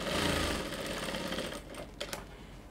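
A sewing machine stitches bias binding to a dress neckline, humming in a fast, even run up close, then slowing and stopping with a couple of short clicks.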